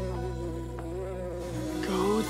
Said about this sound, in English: And someone get rid of that bee!